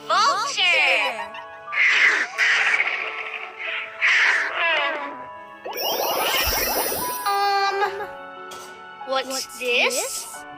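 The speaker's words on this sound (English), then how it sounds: "Vulture!" A vulture gives a harsh, hoarse, rasping call in a short noisy burst, set between stretches of children's voices speaking.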